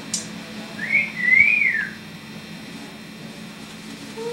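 A pet cockatoo whistles a single clear, rising and falling tune, close and fairly loud over a steady low hum, then falls quiet. Nobody speaks.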